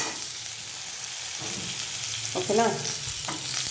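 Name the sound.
frying tomato and onion for sprout curry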